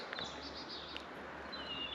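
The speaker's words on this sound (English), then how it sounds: "There are a lot of blackbirds as usual." Faint blackbird song drifts in from a distance, a few clear whistled notes and chirps over a quiet outdoor hush.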